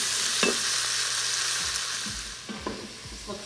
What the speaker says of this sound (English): Throw in the garlic. Mix that.